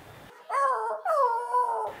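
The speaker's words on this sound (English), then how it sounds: "Just a little puppy." A puppy whimpers and howls in drawn-out, wavering cries, two long tonal calls close by with near silence beneath them.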